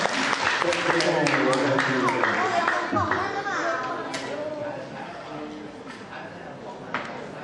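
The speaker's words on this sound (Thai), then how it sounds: "ปรบมือดังๆครับ" Crowd clapping at a live show mixes with a presenter's voice, the applause loud at first and gradually easing off while talking continues over it.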